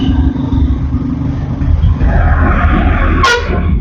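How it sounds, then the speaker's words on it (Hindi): A bus honks its horn as it drives ahead on a winding mountain road near Ramnagar, with a close, heavy engine rumble and a horn that swells and then ends in a sharp, loud blast near the end. "यहाँ ये बस जा रही है आगे, हॉर्न बजाते बजाते।"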